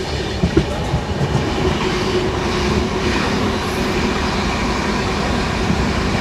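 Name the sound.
12378 Padatik Express train departing on rails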